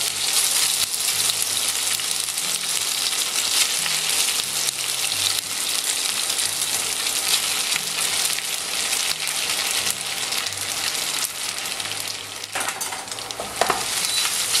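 Spaetzle fries in browned butter, giving a loud, dense, continuous sizzle close up, with faint clinks and a small knock near the end.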